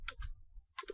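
Quick bursts of computer keyboard typing: a few crisp key clicks, a short pause, then a couple more taps, close and fairly quiet.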